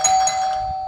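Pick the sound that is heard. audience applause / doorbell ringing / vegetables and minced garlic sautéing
doorbell ringing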